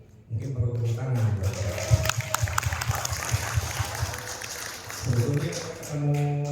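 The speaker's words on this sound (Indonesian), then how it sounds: "Mungkin perlu tepuk tangan." Audience clapping at a celebration event swells after a short pause and carries through the middle, then fades as a voice and low hum return near the end.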